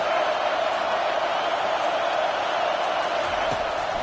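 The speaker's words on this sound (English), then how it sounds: "Listen to this crowd just shaking the girders of this place trying to help their defense" A packed football stadium crowd roars continuously at defense-rallying volume, a dense, unbroken wall of noise lasting the full four seconds with no gaps.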